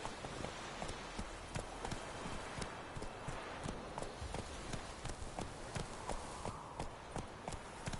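Hooves of the horse Roach clip-clopping steadily in The Witcher 3, an even, rhythmic trot that carries on throughout at moderate distance, quiet, with a faint rain-like patter in the background.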